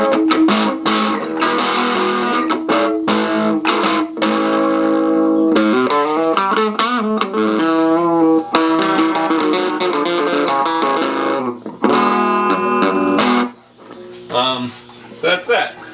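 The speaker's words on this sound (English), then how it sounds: "you crank it up, and it's when you get the distortion out of it" Loud, crunchy distorted electric guitar chords through a cranked vintage Hudson amp with a 1970s Fender Vibro Champ speaker ring out, strummed in bursts with sustained overdriven tones and brief pauses between phrases.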